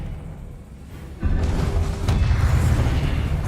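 An Expelliarmus spell cast in the Hogwarts Legacy video game lands as a sudden deep boom and whoosh, then a sustained rumbling roar from the magic effect.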